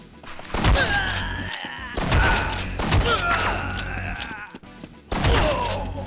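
Shotgun blasts in a Doom-style video game, several heavy booming shots at irregular intervals, each with a sharp attack and a rumbling decay, under continuous game sound.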